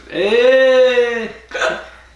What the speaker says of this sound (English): I hate the hiccups.